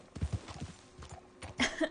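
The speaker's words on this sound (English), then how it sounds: "that's how I put the brakes on the horse" Horse hooves clip-clop in a video game as the horse slows to a stop, a quiet run of soft rhythmic hoofbeats followed by a brief snort.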